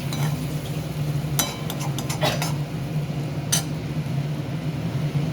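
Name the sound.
stirring chicken curry in a pan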